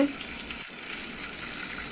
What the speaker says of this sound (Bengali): কত সুন্দর কালার হয়েছে কলার বড়াগুলো, লাল লাল করে ভাজছে।